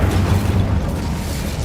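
Incendio fire spell from Hogwarts Legacy, a short, loud, booming whoosh of flame that stays dense and low from start to finish.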